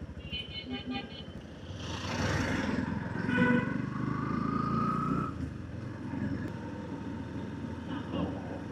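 Busy road traffic with auto-rickshaws and vehicles, a close car horn toots mid-way among steady engine rumble and passing motorbikes, with brief talking at the start.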